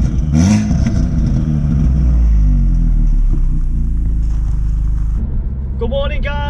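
A modified exhaust on an Audi S3 8V makes a loud, steady, deep engine rumble throughout, with a brief lift in revs and a short voice near the end.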